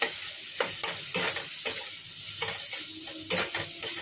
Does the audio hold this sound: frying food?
yes